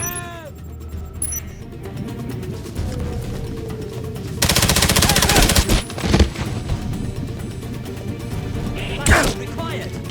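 Gunfire in a James Bond video game, loud sustained machine-gun bursts with single cracks and impacts, rising to a heavy rattling stretch midway; speech is heard among the shots.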